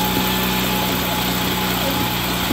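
A 2012-2023 Dodge Charger with an 8-speed transmission runs steadily at idle in a garage setting as it is shifted through gears, a constant loud engine drone with no distinct changes.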